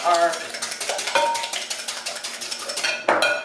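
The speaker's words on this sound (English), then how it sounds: "let me grab my whisk here and get my eggs whipped up here" Eggs being whisked in a bowl for a savory ham and egg bread pudding, giving a steady run of quick, close metallic clicks and scrapes against the dish, with a louder clatter near the end.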